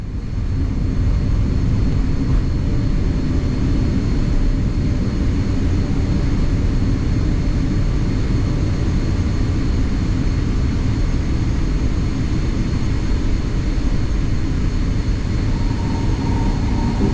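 An Ethiopian Airlines airliner in its takeoff run fills the cabin with a loud, steady engine roar and rumble that holds unbroken throughout, with no voices.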